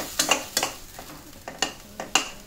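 Thick masala spluttering in oil in a kadhai while a spatula scrapes and stirs it, sharp metallic strokes landing about every half second over a low sizzle, close and without talk.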